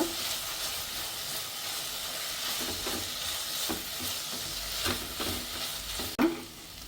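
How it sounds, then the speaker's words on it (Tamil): Tomato, coriander and curry leaves sauté in a pan for channa masala, giving a steady soft sizzle with faint stirring scrapes and one louder clack near the end. "இது கொஞ்சம் கொத்தமல்லி, கொஞ்சம் கருவேப்பிலை போட்டுட்டு அதையும் சேர்த்து வணக்கிக்குங்க."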